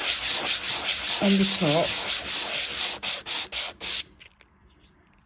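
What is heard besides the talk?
circular sanding of a small wooden piece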